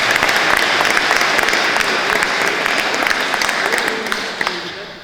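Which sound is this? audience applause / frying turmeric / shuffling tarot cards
audience applause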